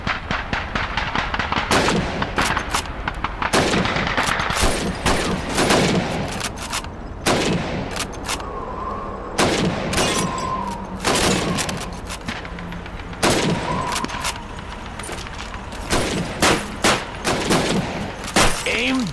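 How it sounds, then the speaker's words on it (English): Rifle shots crack out at a shooting range in Call of Duty 2's Winter War mission, firing at bottles and plates; a steady series of sharp, loud reports, some in quick succession, over a constant ambient background. "Step up to the shooting range. Ready, comrades? Shoot those bottles and plates."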